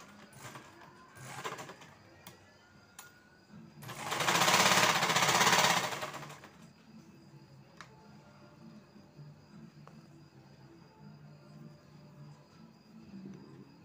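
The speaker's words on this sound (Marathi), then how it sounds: "बरोबर कपडा घेऊन व्यवस्थित शिलाई मारून घ्यायची" A domestic sewing machine stitches blouse fabric in one loud, close, rapid burst lasting about two seconds, with faint clicks and handling noises before and after in a quiet room.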